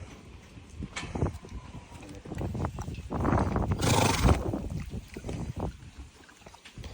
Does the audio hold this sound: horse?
yes